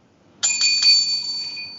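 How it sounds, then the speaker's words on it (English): A bright bell rings out sharply at the opening of a wrestling podcast, with two or three quick struck rings followed by a long sustained metallic tone that fades slowly. "Ring that bell."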